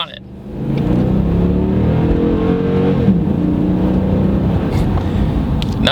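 A truck's big V8 engine revs steadily and loudly for several seconds at close range, with a slight rise in intensity midway and no talking over it.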